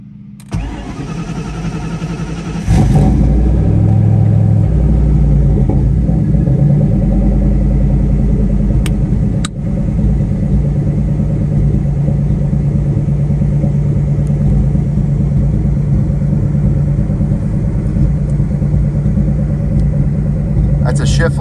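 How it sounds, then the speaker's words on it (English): A warm 2001 Saleen engine cranks and catches, then settles into a steady close rumbling idle with a slight dip partway through, and a voice speaks over it. "This is not a cold engine."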